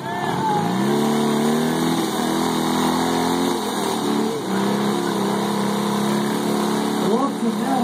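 A Dnepr and a Honda Transalp motorcycle strain against each other in a tug-of-war at a 2013 motorbike rally in Dubno, Ukraine, their engines loud and close, holding a throttled drone that rises and wavers as they rev.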